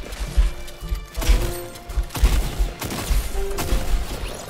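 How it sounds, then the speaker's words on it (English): Gunfire skirmish in Fortnite: repeated bursts of shots and impacts in an uneven rhythm, loud and close, with thuds and crashes mixed between volleys. "I accidentally shot you in that skirmish"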